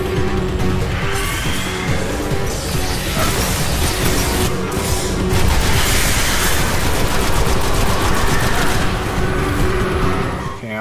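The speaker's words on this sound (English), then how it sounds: "Let him do his little machine gun" Sustained, loud enemy machine gun fire in Destiny keeps up a continuous rattle of rapid shots for the whole stretch, thick with explosions and battle noise.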